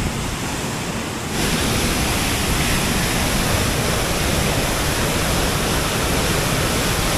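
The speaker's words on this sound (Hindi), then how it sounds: "क्या अमेजिंग वाटरफॉल है ये" A mountain waterfall on the Madhmaheshwar trek roars as a loud, dense, steady rush of falling water that swells in after about a second and then holds unbroken.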